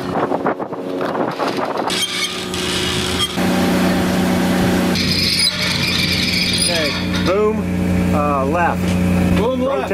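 A sailboat's engine runs in forward gear with a steady, droning hum beneath heavy wind buffeting, while people talk and call out on deck.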